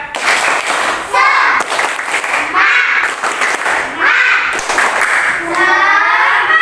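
A primary school class in Indonesia performs a rhythmic spirit clap, with bursts of patterned clapping alternating with loud chanted children's voices in a repeating cycle.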